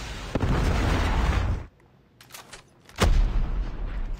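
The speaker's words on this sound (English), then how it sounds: "Predator missile inbound." In Call of Duty Mobile, a Predator missile strike lands during a domination match, giving a loud booming explosion with a rumbling tail, a brief lull, then another sharp blast and continued rumble.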